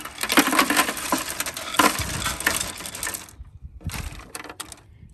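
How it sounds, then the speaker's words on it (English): Cube ice pours into the hopper of a Hatsuyuki HC 8E ice shaver: a close, clattering rush of cubes tumbling and knocking against hard surfaces, then a short lull and a few more rattling bursts, with no talking. "So I'm putting the cube ice, which is cube ice is just like right out of your refrigerator"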